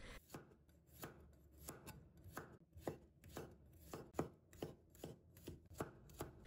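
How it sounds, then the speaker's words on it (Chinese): A knife slices garlic cloves into thin slices on a cutting board, a close series of crisp, fairly regular taps, about two per second, with no talking. "给它切成蒜片。"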